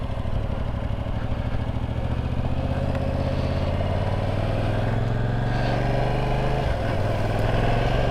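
A 2022 Yamaha R7 sport motorcycle rides steadily with a continuous, loud engine drone that shifts pitch slightly around a gear change near the end, no voices present.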